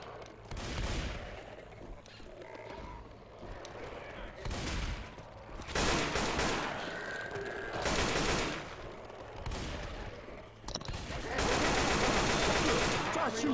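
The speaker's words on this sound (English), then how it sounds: "shooting some damn zombies instead of me" Repeated bursts of gunfire from Left 4 Dead 2 as players shoot zombies, loud cracking volleys separated by short pauses, with a denser sustained barrage near the end and faint voices underneath.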